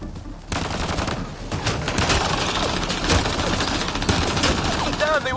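Sustained gunfire from the sci-fi shooter game Mass Effect: Andromeda, dense rapid bursts of shots rattling on for several seconds with scattered impacts, loud and close, with a voice speaking briefly over it.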